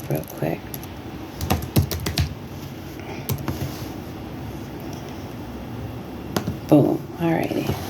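Quick bursts of typing on a computer keyboard, fairly close, with clusters of clicks separated by pauses over a low background hum.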